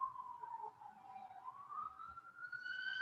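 A wailing emergency siren sweeps up and down in pitch, faint at first and gradually growing louder as it approaches from a distance.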